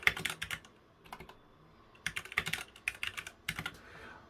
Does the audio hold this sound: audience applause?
no